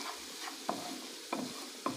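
Green lentils and onion are stirred and sautéed in a pan, with a soft continuous sizzle and three distinct spoon scrapes against the pan at roughly even intervals.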